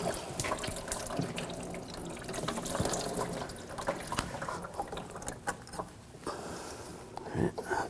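Coolant drains in a steady trickle and splash into a drain bucket beneath the water pump of a 2007-2013 BMW 328i 3.0L inline-six, with occasional light mechanical clicks nearby.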